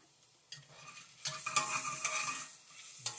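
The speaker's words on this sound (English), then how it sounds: "I'm going to wash my hands, get the shrimp on them." Hands are washed under a running kitchen tap while shrimp is prepared for an Asian noodle bowl: a steady close splash of water swells for a second or two, framed by brief clatters.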